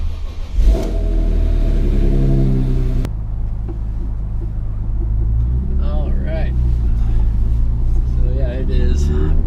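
A BMW E46 M3 accelerating, its engine induction roaring loudly in a rising, throaty rumble that drops off into a steady drone as revs settle, with a voice talking over the engine in the later seconds.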